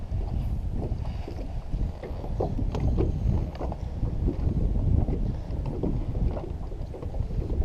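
Strong gusty wind on Degray Lake during a crappie fishing trip, rumbling buffeting against the microphone with water slapping a bass boat hull, continuous and fluctuating with no talking.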